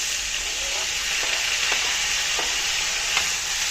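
Tomatoes fry in a pan for a Mediterranean pasta, a loud continuous close sizzle with a few soft stirring scrapes spaced through it.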